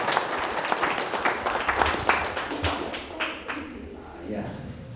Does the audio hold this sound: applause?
yes